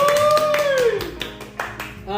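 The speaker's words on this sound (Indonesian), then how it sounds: "Asik, tepuk tangan dulu teman-teman." Podcast hosts clap their hands at the close of an episode, a brief patter of claps heard close up under ongoing talk.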